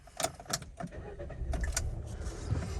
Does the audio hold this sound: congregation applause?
no